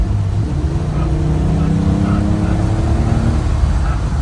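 A BMW 850i accelerating under power on a wet road during a test drive, heard from inside as a steady, loud engine drone with rising harmonic tones, plus continuous road and rain noise throughout.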